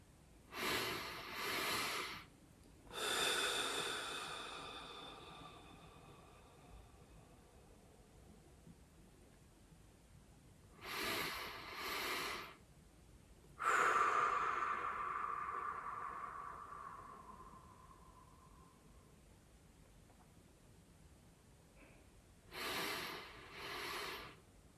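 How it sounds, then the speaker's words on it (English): A person does a double-inhale breathing exercise, taking two quick sniffs in through the nose and then a long sighing exhale, repeated in several separate rounds with quiet pauses between them. "Now let's do a double inhale."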